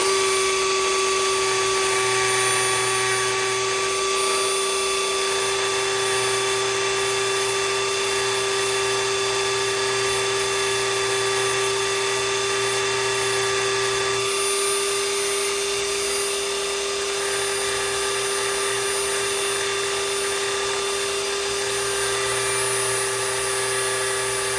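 A steady high-pitched whine of a Dremel rotary tool sanding off a type design runs continuously and loudly, a constant grinding drone with slight shifts in pitch throughout.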